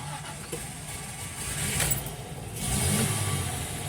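A classic Alfa Romeo 2600 Sprint coming to life, starter churning before the engine catches and settles into a rough idle, then a brief rise in revs, close and moderately loud.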